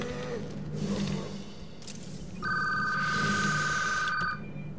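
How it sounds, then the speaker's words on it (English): A phone rings with a sustained electronic trill lasting about two seconds over steady game engine and background noise. "I hate phone calls."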